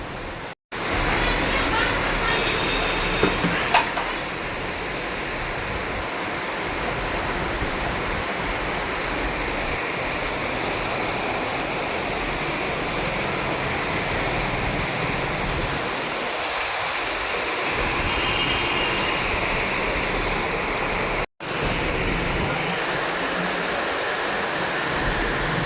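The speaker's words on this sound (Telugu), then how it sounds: "చాలా వర్షం పడుతుంది." Heavy rain pours down in a dense, continuous hiss of drops striking surfaces, loud and close and steady for the whole stretch, with faint voices now and then beneath it.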